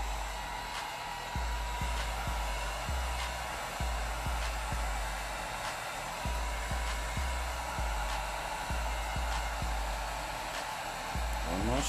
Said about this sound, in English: so I'm gonna hit it with my heat gun a little bit. Low setting.